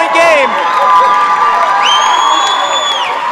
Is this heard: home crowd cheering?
yes